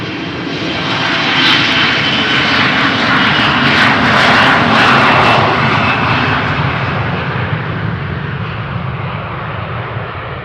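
Jet engines of an Airbus A330 airliner at Amsterdam Schiphol Airport roar loudly and close, swelling to a broad peak and then easing slightly while staying strong.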